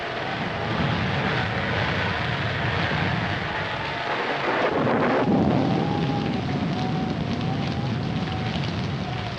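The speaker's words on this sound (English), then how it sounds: "we'd better get out of here before this storm gets any worse" Steady roar of wind and rain from a storm, constant and loud throughout, with a faint rising whine like wind howling partway through.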